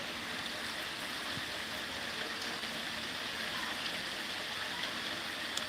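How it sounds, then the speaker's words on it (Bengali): Heavy rain falls in a steady, fairly faint wash of drops and running water, continuous and even throughout with no voices. "আমাদের এখানে খুবই বৃষ্টি হচ্ছে"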